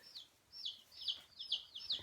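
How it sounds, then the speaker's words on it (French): Baby chicks peep inside a box in a bedroom, five sharp, high, evenly spaced cheeps heard up close one after another against quiet room tone. "je pense que vous allez bien entendre les piaillements"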